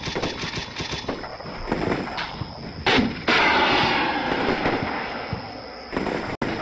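Mark 19 grenade launcher and infantry small arms fire in a modern war video game, a continuous crackling barrage of shots and thumping bursts with a louder surge midway, no talking.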